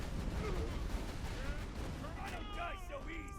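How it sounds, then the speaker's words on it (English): Axton's deployed turret fires in Borderlands 2, a dense rumbling barrage of rapid gunfire and booming impacts under a player's excited talk. "Oh, now I get to throw out my turret. Fight for my life, turret!"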